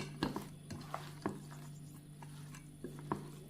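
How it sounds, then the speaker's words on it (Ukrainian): Soft scraping and tapping of a spatula stirring salted zucchini in a pan, a few irregular strokes over a low steady hum, no talking. "Файно перемішаю лопатку або можеш ложку перемішати."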